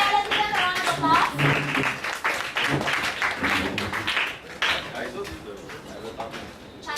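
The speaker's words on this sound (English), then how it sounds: "let's give them a round of applause" Classroom applause for a group of presenting students, a brisk scatter of clapping hands with voices talking over it.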